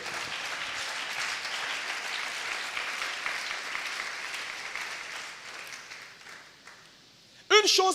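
A church congregation at a French-language service claps in loud, sustained applause that gradually thins out before a voice cuts in at the end.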